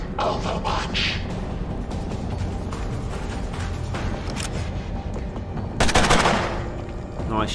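Gunfire in the turn-based tactics video game Mutant Year Zero: Road to Eden rings out in a few sharp bursts over a steady game soundscape, loudest near the end.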